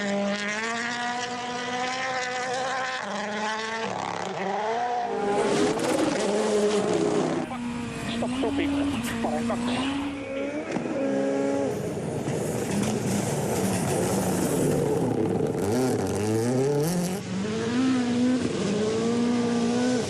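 WRC rally cars at Rally Finland scream past with high, rising and falling engine notes and sharp gear changes, loud and fairly close. A voice talks over the engines.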